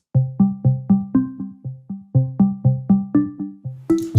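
A plucked synth patch sounds through a delay effect: a rhythmic run of short, sharply attacked notes, each fading quickly. A brighter, noisier hit comes at the very end. No voices.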